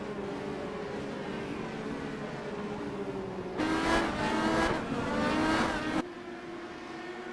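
Race cars on a track, a low engine drone that swells into a loud roar of several cars passing close together for a couple of seconds and then fades back to a distant hum.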